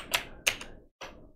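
Keystrokes on a computer keyboard entering a Linux terminal command: three sharp, close taps spaced a fraction of a second apart, heard alone.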